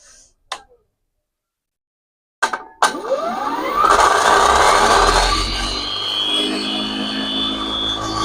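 A permanent magnet three-phase alternator generator starting up: a couple of clicks, then a rising whine and mechanical drone that spins up and holds steady, loud and close.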